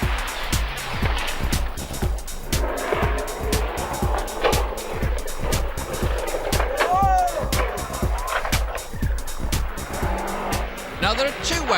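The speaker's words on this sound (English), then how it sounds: "This is John Robson in his Kielder Waters Vauxhall Corsa, a fiery, aggressive driver if ever there was one" A Vauxhall Corsa rally car is driven hard on a Kielder Waters forest stage with its engine revving and tyres scrabbling. A rapid, rhythmic thumping runs throughout, and a commentator talks over the car.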